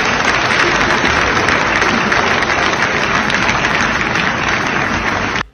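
A supportive audience claps for Lula at an event in New York, dense and steady applause at full volume that cuts off abruptly at the end.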